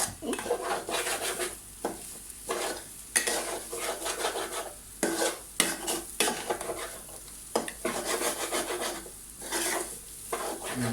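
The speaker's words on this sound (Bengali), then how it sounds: "এভাবে কিছুক্ষণ নাড়বেন, এই নাড়তে থাকবেন।" A spoon scrapes and stirs bhuna khichuri in a pan at home, with steady rasping, clinking strokes and soft sizzling that continue with short pauses, close and moderately loud.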